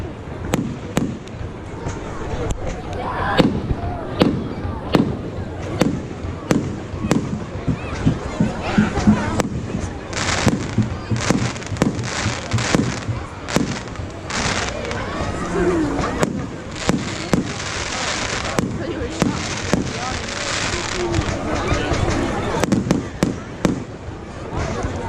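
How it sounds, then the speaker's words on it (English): Bonfire night fireworks bang and crackle repeatedly for the whole stretch, with sharp bursts arriving every second or two, some loud and near and others fainter, over a steady hiss and a murmur of people in the background. "Fireworks."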